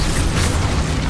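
A loud, dense blast from the Confringo fire spell in the Hogwarts Legacy video game, a single continuous roaring boom that fills the whole short moment.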